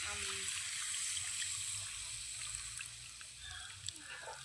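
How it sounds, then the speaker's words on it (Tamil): Water is poured into a cooking pot for a tamarind curry with black-eyed peas, a soft continuous trickling splash heard close and fairly quiet. "தேவையான அளவு தண்ணியை ஊற்றிட்டு கொதிக்க வச்சு"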